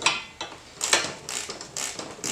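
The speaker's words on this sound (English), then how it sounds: "axle nut off of here, which for some reason isn't coming off very easy." Ratchet wrench working a stubborn rear axle nut on a Honda CRF50 dirt bike, giving bursts of rapid clicking pawl ticks in several close, loud runs with brief pauses between them.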